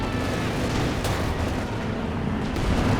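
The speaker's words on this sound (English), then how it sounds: "the heavy mortars striking hard again" Heavy mortar strikes in Company of Heroes 2, a dense, continuous roar of battlefield blasts and rumbling detonations, loud and steady with a couple of sharper impacts standing out.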